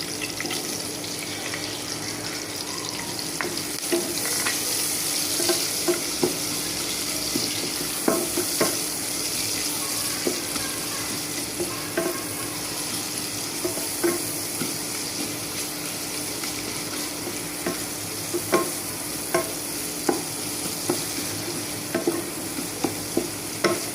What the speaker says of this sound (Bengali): এখন আমি পেঁয়াজ কুচিটা দিয়ে দেবো।